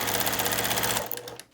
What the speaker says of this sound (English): you're still going to be sewing a few inches or a few stitches and smoothing out